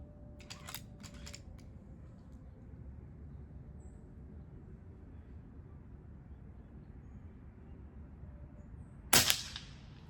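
A BB gun fires at a bullseye target at an air rifle championship. A single sharp, loud crack comes near the end after a long stretch of quiet background hum, with a few faint clicks at the very start.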